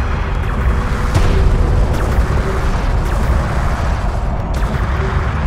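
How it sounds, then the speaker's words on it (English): Command carrier taking fire in the desert strategy game Homeworld: Deserts of Kharak, with a dense, continuous rumble of booming explosions and artillery hits, loud and steady with a few sharper impacts. "Red alert, command carrier taking fire."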